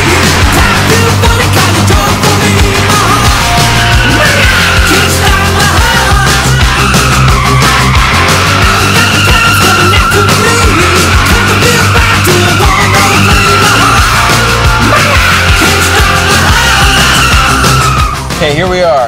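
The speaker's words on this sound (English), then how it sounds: "Okay, let's go spin some tires." A twin-turbo V12 Mercedes coupe making over 600 horsepower spins its tires, a loud, continuous engine roar with squealing rubber rising and falling for nearly twenty seconds, a voice audible under the noise.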